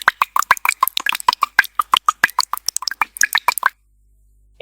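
Rapid series of close, crisp water drips and plops, about three dozen in an irregular quick rhythm, stopping abruptly into silence near the end; an AI-generated water sound effect from Wondershare Filmora.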